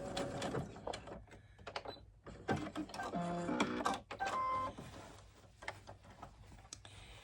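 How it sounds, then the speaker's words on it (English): A sewing machine runs short bursts of stitching along a doll dress seam, quick mechanical whirring and clicking starting and stopping in uneven spurts, fairly faint and close with small handling noises between runs. "I'm going to go in about 5/8 of an inch and just sew up about an inch."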